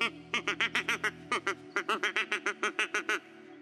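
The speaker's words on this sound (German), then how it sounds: "Den Entenlockruf" A wooden duck call blown in a quick descending run of raspy quacks, about twenty sharp, evenly paced notes close up, with a brief pause midway.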